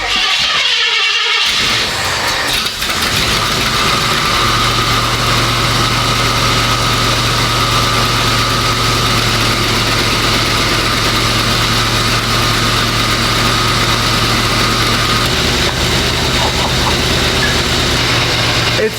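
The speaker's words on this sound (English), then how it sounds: "The headers, the exhaust, way, way better than my Bronco has ever sounded." An early Ford Bronco engine fitted with new headers and exhaust idles steadily and loudly for the whole stretch, a deep rumbling drone with a low steady tone settling in after a rougher start.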